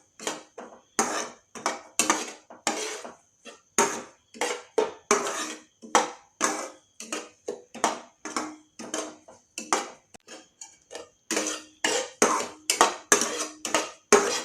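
Semolina roasted in a pan for suji rasmalai, stirred with quick, regular scraping strokes of a spoon against the metal, a steady rhythm of dry rasping scrapes close by with no voices.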